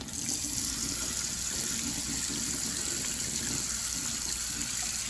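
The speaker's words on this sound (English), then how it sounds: "I'm going to rinse this hot water out." Hot water gushes from a kitchen tap as a pot used for boiling eggs is rinsed out, a steady, close, continuous splashing stream running the whole time with no talking.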